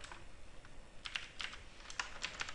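Typing on a computer keyboard while filling in test data, with scattered quick clusters of crisp, close key clicks over a faint background hiss.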